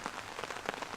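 Heavy rain pours down steadily onto a surface, a dense patter of drops close by in a suburb with no voices, continuous and loud across the short moment.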